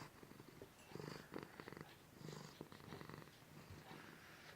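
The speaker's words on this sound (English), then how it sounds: "She's purring up a storm." A cat purring close by, a soft rhythmic rumbling purr in slow pulsing breaths, quiet and alone with no talking.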